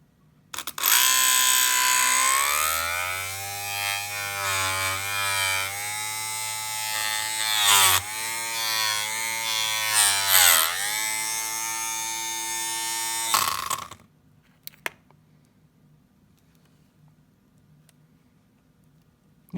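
A rewound 12-volt DC shifter motor from a 1958 Edsel runs in its unscrewing direction with a loud, close, steady electric whine that wavers in pitch, then cuts off abruptly near the end, leaving near silence.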